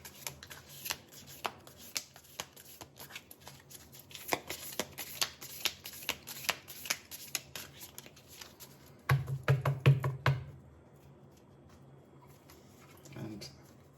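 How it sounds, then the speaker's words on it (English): Tarot cards are shuffled in a rapid run of dry riffling flicks and taps for about ten seconds, close and crisp, ending in a brief louder burst of handling before quiet. "So let me shuffle the cards."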